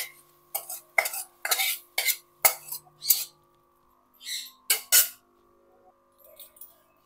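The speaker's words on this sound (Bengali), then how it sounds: "একটা বড় প্লেটের মধ্যে ঢেলে নেব যাতে তাড়াতাড়ি ঠান্ডা হয়ে যায়" Cooked kankrol leaf paste scraped from a wok onto a large plate and spread out, with a series of sharp metal-on-metal scrapes and clinks, then a few softer wet smears, close and clear in a quiet kitchen.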